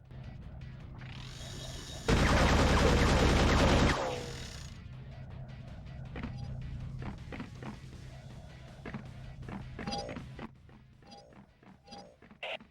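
A spinning-barrel chaingun in Tribes: Aerial Assault opens up in a dense, loud two-second burst of rapid fire after a brief rising whir, followed by scattered clanks, thuds and footsteps.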